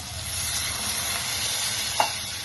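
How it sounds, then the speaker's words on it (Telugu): Water poured into a hot pan while cooking an egg curry with elephant foot yam, giving a steady close hiss and sizzle with a small clink near the end. "కొంచెం వాటర్ పోస్తున్నా"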